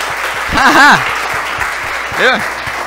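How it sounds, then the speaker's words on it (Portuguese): A church congregation applauds in a steady, even patter under a voice speaking and exclaiming in bursts, the clapping continuous and fairly close throughout. "Você pode aplaudir a vida dos irmãos aqui do louvor."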